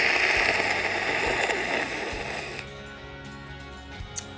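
A human voice imitates the sound of muscles picked up during a nerve needle test, making a rough, rumbling, crackly noise with a few low thumps that then thins into a quieter buzzing tail.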